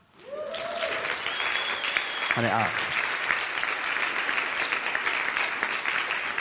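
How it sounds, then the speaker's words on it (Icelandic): A church congregation at a New Year's Day service claps steadily and loudly for several seconds, a dense continuous roll of hands, with a voice speaking briefly at the start and again partway through. "það var nú bara að klappa fyrir því"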